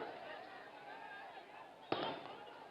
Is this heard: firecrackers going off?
yes